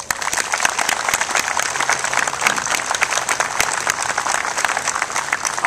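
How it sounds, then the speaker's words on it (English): Dense, steady audience applause at the Patriot Way dedication ceremony, many hands clapping loudly and continuously throughout, close and sustained without letting up. "I think they deserve a round of applause"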